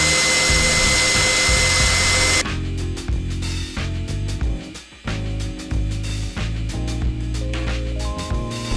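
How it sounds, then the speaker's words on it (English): A power drill bores through the pinch weld of a Sprinter van to remount an airline bracket, a loud continuous whine that shifts pitch as the bit bites into the metal, with no talking. "Now I need to re-drill a hole through the pinch weld"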